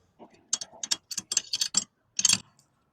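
Bolts are snugged down on a 1969 Ford F100, giving close, quick ratcheting clicks in short bursts with brief pauses between them.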